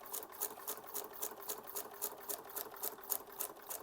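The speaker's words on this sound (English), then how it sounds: "This is the free arm part of the sewing machine." A sewing machine stitches on its free arm, its needle running in a steady, rapid mechanical rhythm of evenly spaced clatters, close and continuous with no talking.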